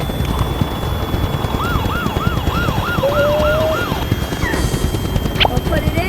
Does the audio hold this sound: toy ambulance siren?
yes